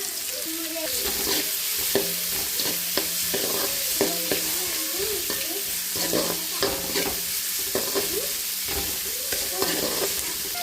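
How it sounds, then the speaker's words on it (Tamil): Onions and cabbage sautéing in a pan for egg fried rice, a continuous sizzle with frequent stirring clatter and scrapes, close and moderately loud, and a muffled tonal sound faintly in the background. "வெங்காயம் எல்லாம் போட்டுருக்கேன் நல்லா கொஞ்சம் வதக்கிடலாம்"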